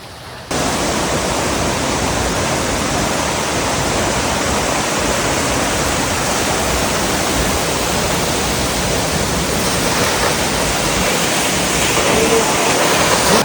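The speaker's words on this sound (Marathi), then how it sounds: "लय भारी पाणी पडतंय तिथं" A waterfall roars as a loud, steady, broadband rush of falling water heard close up, continuous for the whole stretch with no pauses.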